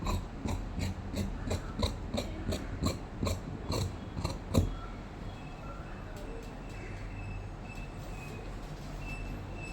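Scissors snip through churidar top fabric in a rapid series of about a dozen crisp, regular cuts, then stop, leaving a steady low room hum.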